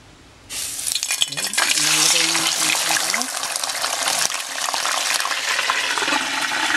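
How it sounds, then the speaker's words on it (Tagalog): Milkfish (bangus) sizzles loudly after dropping into hot cooking oil, a sudden crackling burst that settles into steady frying, with a voice speaking briefly over it. "pipirituhin lang natin itong bangus hanggang maging tostado siya"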